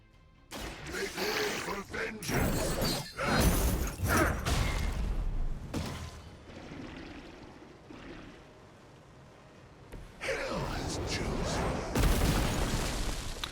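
Explosions in the video game Marvel's Midnight Suns: several loud, heavy booming bursts with rumbling tails, mixed with other game effects and a person talking.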